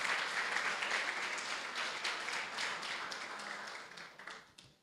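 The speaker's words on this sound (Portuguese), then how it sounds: "Pode aplaudir e glorificar." A church congregation applauding after a sermon, dense sustained clapping from many hands that fills the space and tapers off toward the end.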